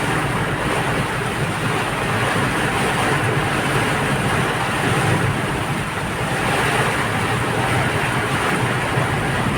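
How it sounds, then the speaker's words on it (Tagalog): Loud, dense, continuous roar of heavy rain, steady throughout with no voices. "malakas ang ulan."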